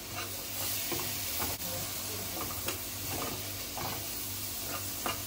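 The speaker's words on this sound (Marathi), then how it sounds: "वाटण थोडं परतून घ्यायचंय।" A ground spice paste sautéing in a pan for a Maharashtrian bean and brinjal curry: steady sizzling and frying hiss with occasional spoon scrapes and stirring taps.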